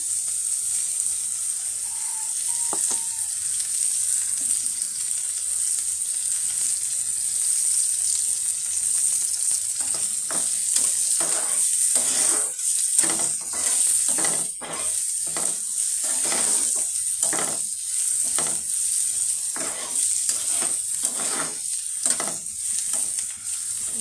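Onions frying in hot oil for do pyaza give a steady bright sizzle throughout, with rhythmic bursts of scraping and stirring in the pan over the second half and no voices.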